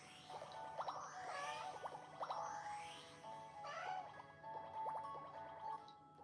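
A house cat meowing indoors: a series of drawn-out, rising meows, about four of them, fairly close and fairly quiet, heard on their own with no talk.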